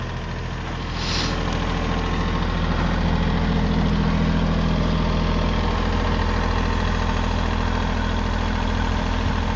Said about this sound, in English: here's the tractor mounted with a snowblower.